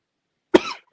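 A single close, sharp cough from a podcast host recovering from an illness, one quick burst trailing into a short rough exhale, alone with no talk around it.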